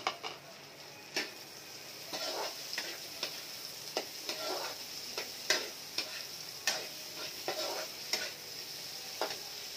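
Okra goes into a simmering pot of sinigang na lechon baka and gets stirred, with repeated scraping and clattering strokes over a steady background sizzle, close and moderately loud, without talk.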